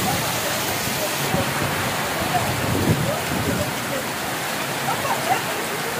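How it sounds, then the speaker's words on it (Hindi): Heavy rain pours down in Dantour, India, in a dense, continuous hiss, with occasional louder splashes and a low rumble underneath. "आज हमारे दंतौर के अंदर देखो कितनी भयंकर बारिश हो रही है"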